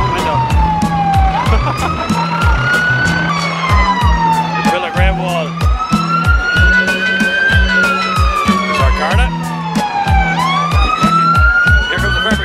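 A loud wailing ambulance siren rises and falls continuously at a St Patrick's Day parade in Portlaoise, Ireland, layered with a rapid yelping pattern and a steady low rumble of traffic.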